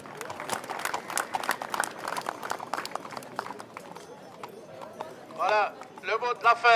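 A Franches-Montagnes horse moving at a steady pace, its hooves striking ground in a quick, regular clip-clop rhythm, fairly close, before other sounds take over near the end.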